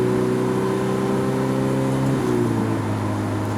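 Ferrari F430 Spider from 2005 pulling in first gear, its engine tone rising steadily before dropping sharply as it shifts into second gear, then continuing to climb; loud and close with no speech.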